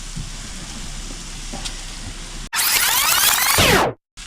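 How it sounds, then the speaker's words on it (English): Chicken pieces sizzle on a camp grill at a caravan park in the Victoria High Country, a steady crackling hiss that suddenly swells loud and bright when the meat is flipped, then cuts out. "Cooking away, sizzling away."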